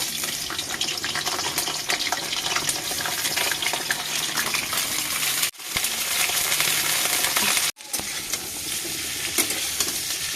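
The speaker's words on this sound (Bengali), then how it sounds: "এখন এই ফুলকপিটা ভেজে নেব" Cauliflower frying in hot oil, a loud, continuous crackling sizzle close by, broken twice by brief silent gaps, with no talk.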